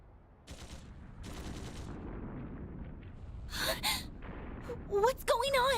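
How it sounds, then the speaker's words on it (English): Gunshots crackle in the video game Trails through Daybreak II, with a few distant bursts of gunfire under ambient noise, followed by sharp character gasps and voices near the end. "Gunshots! From the next district!"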